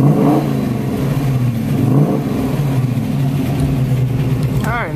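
A 1968 Mercury Cougar's engine idles and revs steadily at close range, a continuous mid-pitched drone with slight swells in pitch, while a voice talks over it.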